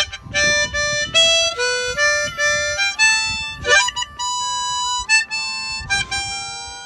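Harmonica playing the melody of Let It Be with crisp, tongued T articulation, each note starting sharply and clearly in a quick sequence of separate, close, bright tones.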